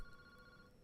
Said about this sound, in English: Boss, that phone is ringing.